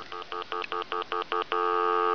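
A rapid series of eight short electronic beeps, like keypad dialing, followed by a steady, unbroken dial tone from a wooden wall phone with a touchtone dialpad that holds to the end.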